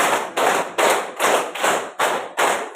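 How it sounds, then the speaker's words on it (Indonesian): A group claps together in a steady rhythm, seven even, loud bursts with short gaps between them, and no talking. "Tepuk 1, 2, 3."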